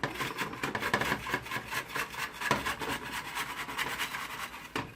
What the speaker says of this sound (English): So what I use now is I'll use a scraper. Straight edge scraper, the cutter